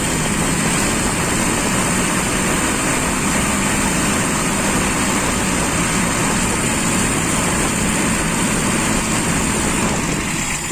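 A car engine idles unevenly at close range, and its dense, constant mechanical drone carries a faint irregular stumble.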